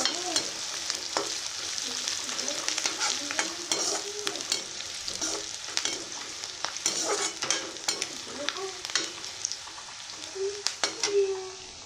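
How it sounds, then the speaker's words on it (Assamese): Onions sizzle steadily in hot oil, with frequent scraping and clinking as a utensil stirs the pan, up close and continuous. "এতিয়া মই একেখিনি তেলতে পিঁয়াজটো ভাজি ল'লোঁ।"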